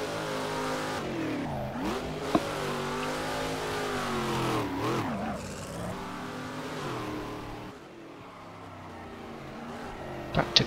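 Race car engines from the stock car racing game Game Stock Car 2012 at Ribeirao Preto roar continuously, revving up and down through gear changes, loud and close with brief dips as cars slow and accelerate again.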